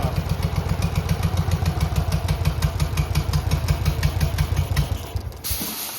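A turbine engine fitted in a custom Ford F100 runs steadily and loudly with a rapid pulsing drone, failing to shut off, then cuts out abruptly near the end, leaving a faint hiss.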